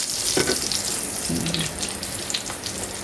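Food frying and browning in a pan, a dense, even sizzle running steadily throughout, with faint clinks of a utensil and no voices.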